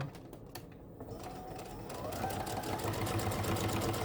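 Sewing machine running a quarter-inch seam on an Irish Chain quilt block, a faint mechanical whir that picks up and grows steadier and somewhat louder over a few seconds, with no talk.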